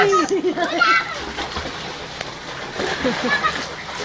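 Children swimming send up water splashes and sloshing, strongest at the start and again near the end, with voices of people talking and calling out over the water.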